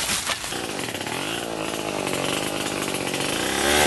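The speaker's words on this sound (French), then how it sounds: "Le travail avec une tronçonneuse est dangereux et ne doit être exécuté que par un personnel qualifié." A chainsaw cuts through cashew trees on a farm plantation, its loud, steady, close engine whine running unbroken throughout with no speech over it.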